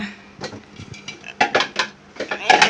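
Metal pot lids clink and clatter against a cooking pot in a home kitchen as they are tried on one after another, with irregular close knocks and scrapes and brief speech between them.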